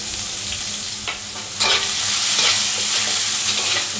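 Onions sizzle steadily in hot oil with a bay leaf and whole spices, loud and close, with occasional stirring scrapes and no voices.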